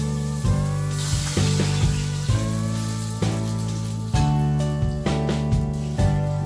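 Water poured into a hot tempering pan of oil with asafoetida, curry leaves, cumin and chilli hisses loudly, with repeated bursts of crackling sizzle over a low steady hum.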